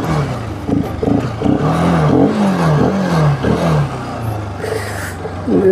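Bajaj Pulsar RS200 motorcycle revving and pulling away, the engine note rising and falling through gear changes, loud and close throughout.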